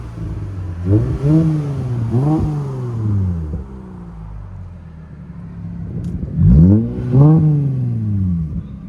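A 2023 Lexus IS 350 with a 3.5L V6 and Flowmaster Flow FX exhaust revs several times in quick bursts, rising and falling close by, with a pause before two more revs.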